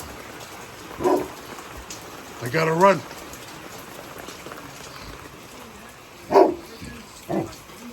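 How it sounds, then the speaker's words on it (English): Pouring rain from a tropical storm during a hurricane hisses steadily in the background while a dog barks a few times and a person speaks briefly. "Pouring rain in the hurricane."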